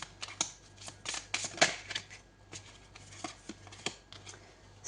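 Tarot cards are shuffled up close in soft, crisp riffling bursts separated by short pauses, fairly quiet overall.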